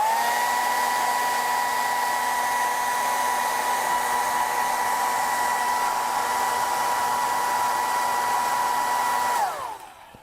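A hair dryer blowing on a watercolor painting to dry the paint, a steady close whirring whine held for about nine seconds before it switches off and winds down.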